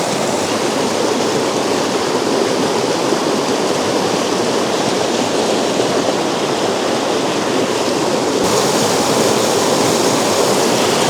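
A forest stream in autumn rushes steadily, a dense, continuous wash of flowing water, close and loud with no pauses or voices.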